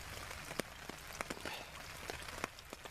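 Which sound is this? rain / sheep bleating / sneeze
rain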